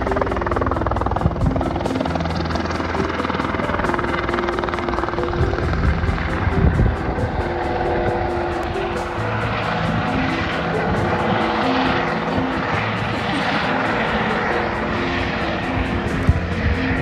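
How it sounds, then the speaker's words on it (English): A tour helicopter roars steadily nearby inside a canyon on Kauai, its rotor chopping continuously, with the engine noise echoing between the rock walls. "Part of the helicopter tour, right inside the canyon."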